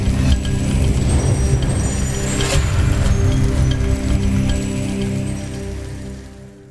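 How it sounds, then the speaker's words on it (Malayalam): Heavy monsoon rain pours down in a steady, loud wash that holds evenly for several seconds, with a sharp clink partway through, before tapering off slightly at the end. "സംസ്ഥാനത്ത് വ്യാപക മഴയാണ്. തോരാ മഴയിൽ തീരാ ദുരിതം."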